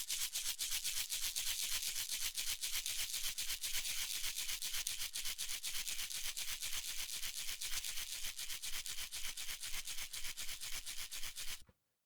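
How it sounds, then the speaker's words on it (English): Recorded shaker percussion played back solo in a home music studio, a steady fast rhythmic rattling swish that runs evenly for about twelve seconds, then cuts off. "we're going to start by soloing our shaker because we want to hear what we actually recorded"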